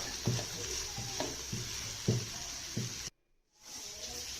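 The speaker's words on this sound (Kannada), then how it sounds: "ಒಂದು 2-3 ನಿಮಿಷ ಸಣ್ಣ ಉರಿನಲ್ಲೇ ಚೆನ್ನಾಗಿ ಫ್ರೈ ಮಾಡಿರಿ." Onion, capsicum and paneer with masala frying in a pan over a low flame; a soft, steady sizzle runs under rhythmic stirring knocks, about five, then the sound cuts out briefly before the faint hiss returns.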